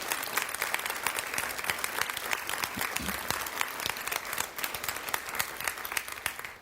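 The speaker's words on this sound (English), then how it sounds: "Would you just please give a round of applause for all the heroes we lost on 9/11?" An audience applauds in honour of the heroes lost on 9/11, a dense, sustained wash of many hands clapping at even loudness throughout, with no talk over it.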